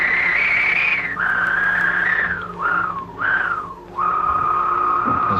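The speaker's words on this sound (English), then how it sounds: "That's the sound of the mouse disappearing back into its burrow." Synthesizer tone with a long decay, made for a mouse vanishing into its burrow: a whistle-like pitch that glides and dips in several swoops, steady and fairly loud with no voices.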